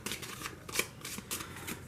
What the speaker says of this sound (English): go ahead and shuffle them up